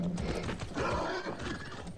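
A red horse in Far Cry 6 neighs and whinnies in a brief, rough burst with a roaring edge, heard fairly close and faint, with no talking.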